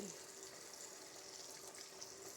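Hot tap water running steadily through a greasy GE microwave exhaust filter to backwash it, a constant close hiss and splash with no breaks.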